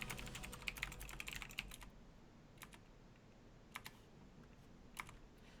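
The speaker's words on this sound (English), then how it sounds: "I'm typing to the team" Someone types on a computer keyboard during an Overwatch match broadcast: a quick burst of clattering keystrokes, then scattered single taps and short clusters, close and fairly quiet.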